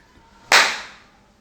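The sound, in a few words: hand clap switching a clap controlled light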